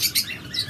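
Pet birds chirp in a cage, a breeding pair among lovebirds, budgerigars and cockatiels: bright, close tweets in a few quick bursts, with no talk over them.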